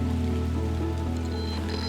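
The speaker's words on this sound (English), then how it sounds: "it's keeping me dry and it is raining now" Steady rain patters on a shelter set up at a carp fishing swim at night, a dense, continuous wash with a low drumming undertone and scattered drips, close and alone with no talk.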